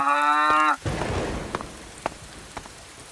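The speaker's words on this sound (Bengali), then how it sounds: "গরুটা এখনো ডাকতেছে।" In a horror video game, a cow gives one long, close moo, followed by faint pattering ambience with a few scattered clicks.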